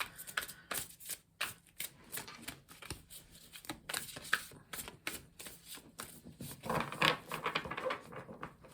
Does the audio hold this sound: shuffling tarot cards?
yes